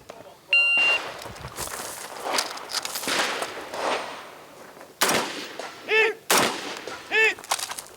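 Shots from an ex-Slovenian army rifle on a shooting stage at a practical rifle competition, several loud cracks spaced out amid outdoor noise and movement, with timer beeps sounding between them.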